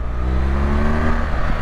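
A BMW R1200GS Adventure motorcycle engine revs and accelerates hard, a loud rising drone whose pitch climbs steadily over a second and a half, heard alone.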